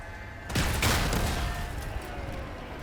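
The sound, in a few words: rockets firing in the video game Crossout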